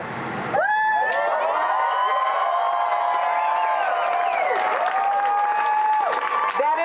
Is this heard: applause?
yes